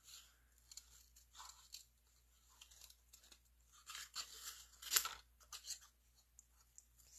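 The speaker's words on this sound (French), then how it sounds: "ouvrir et fermer les ciseaux et juste comme tourner le carton" Scissors cut through cardstock while the card is turned, a string of quiet close crunching snips with short pauses, the sharpest cut near the middle, in an otherwise silent room.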